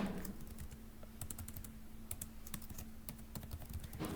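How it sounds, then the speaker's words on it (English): A comment being typed on a computer keyboard: steady, close keystroke clicks in irregular bursts over a low constant hum, with no talking. "type my comment in the box."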